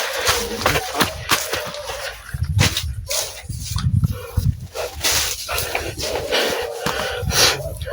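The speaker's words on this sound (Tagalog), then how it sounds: "May tumatahol na." A dog barks in repeated short bursts mixed with snorting, wheezy breaths and rough background noise, close by and fairly loud throughout.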